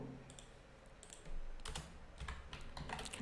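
Code being entered on a computer keyboard: soft, close key taps in scattered clusters with brief pauses between, no talking.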